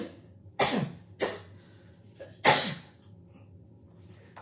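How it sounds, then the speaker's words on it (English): A person coughs three times in short, sharp bursts spaced about a second apart, close to the microphone, with quiet room tone between them and no talk. "I don't know what's making me cough"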